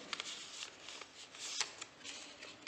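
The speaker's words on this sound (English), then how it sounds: "So what I will do, like this I will fold it." Paper being folded by hand during a children's craft class, with soft crinkling and rustling and a few sharper creases, quiet and close.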